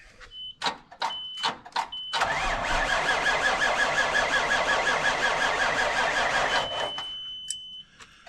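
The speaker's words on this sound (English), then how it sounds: "See if this thing wants to start up this morning." A truck engine cranks and catches after a few short starter bursts, then settles into a steady, loud idle close by, the starter sounding slightly sluggish on aging batteries; a few clicks and a faint beep precede and follow it.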